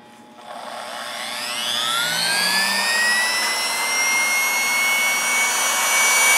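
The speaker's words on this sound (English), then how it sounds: "We have a Virtis Virtishear lab homogenizer. It is variable speed." A variable-speed Virtis Virtishear lab homogenizer, running without a stator, starts up and climbs to a steady high-pitched whine with a rising tone over the first seconds, then holds a loud continuous motor drone.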